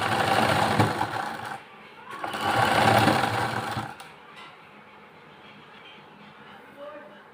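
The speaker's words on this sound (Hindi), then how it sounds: "ये सिलाई के ऊपर ही सिलाई लगाएंगे" A sewing machine stitches over an existing seam on trousers in two loud bursts, the second a little longer, with a quiet hum between them and after.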